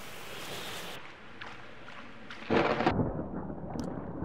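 Thunderstorm with rain in the survival video game Subsistence: steady rain hiss throughout, with a loud rumbling thunder crack bursting in midway and rolling on to the end.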